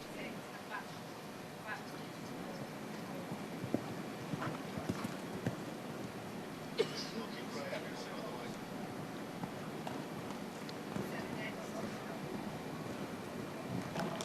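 Show jumping horse's hooves thudding on the arena surface at the Liverpool International Horse Show, a steady clip-clop under continuous crowd and commentary noise, with occasional sharper knocks.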